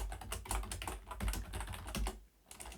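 Keys on a computer keyboard clatter in quick irregular bursts as a Linux terminal command is typed, close and fairly quiet, with a brief pause near the end before tapping resumes.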